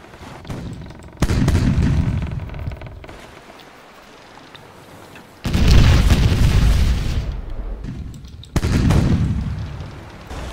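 Ship cannons fire during a naval battle in the pirate game Age of Pirates 2, with three heavy, rumbling booms at spaced intervals, each swelling and then slowly decaying.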